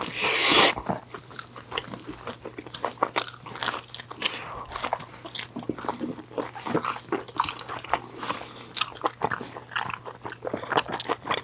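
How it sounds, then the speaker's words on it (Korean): Close-up biting and chewing of Domino's potato pizza topped with mayonnaise, a steady stream of soft crunches and wet mouth sounds, with a loud bite at the start and no talking. "피자를 오랜만에 먹네."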